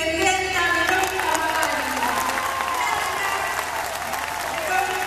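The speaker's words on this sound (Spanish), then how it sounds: "quiero empezar pidiendo un aplauso" Sustained applause from a crowd at a public event in La Matanza, Argentina, a dense steady roar of clapping mixed with murmuring voices and cheers throughout.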